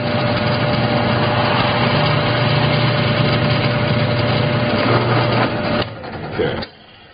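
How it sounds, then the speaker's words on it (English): A power drill whirs at a steady high pitch for several seconds while drilling holes in a vehicle chassis part, then winds down and stops. "I'm going to drill the first one"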